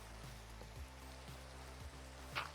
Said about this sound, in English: Man, I don't like the rain.